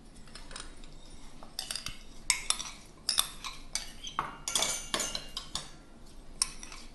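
Soaked ragi grain tipped and spooned into a mixer jar, giving a run of close clinks and scraping knocks of utensil against the jar, steady for several seconds without talk.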